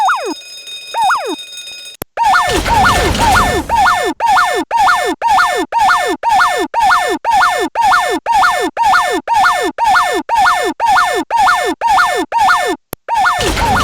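Prison lockdown alarm at Springfield Penitentiary in The Simpsons Hit and Run video game, after a couple of opening wails, a loud siren repeats in rapid, regular falling sweeps with brief gaps between them.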